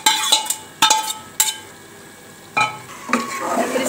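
A spoon stirs mashed potato and eggplant in a pan for aloo baingan sabzi, giving several sharp scraping clinks against the metal with a light sizzle between strokes, close and alone.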